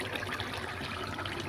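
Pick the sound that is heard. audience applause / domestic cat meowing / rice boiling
rice boiling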